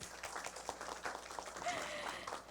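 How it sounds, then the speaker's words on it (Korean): Applause from a seated audience at a craft biennale forum panel, a moderate patter of clapping hands with uneven rhythm, fairly faint and somewhat distant, lasting the whole span. "박수 한번 부탁드립니다."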